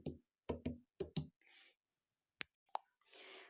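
Knuckles rap on ripe-checking watermelons in a series of hollow, close knocks: a quick run of dull thumps, then a pause and a couple more sharp taps, with faint rustling between.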